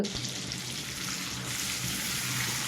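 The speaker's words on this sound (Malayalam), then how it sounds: "അപ്പോൾ അതൊക്കെ ഒന്ന് ഫ്രൈ ആയി വന്നിട്ടുണ്ട്" Chicken pieces frying in oil for Kerala-style chilli chicken, a dense close sizzle with a crackling hiss that swells slightly toward the end, no voices.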